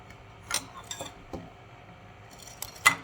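A few light clinks and scrapes of cutlery against a dish as avocado mix is plopped onto warm toast, brief and close, with quiet pauses between them.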